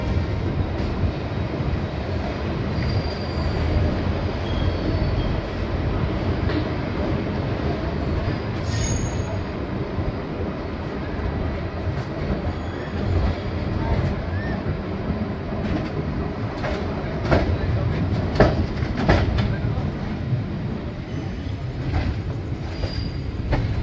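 The Bokaro Steel City Express runs on rails near Bankura station with a continuous loud rumble and rattling carriages, sprinkled with clicks and brief wheel squeals throughout.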